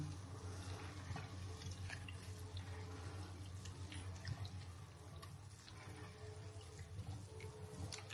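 Red caviar being rinsed under running tap water, a soft steady stream into a sink or bowl with small splashes and drips, quiet and close, no talking.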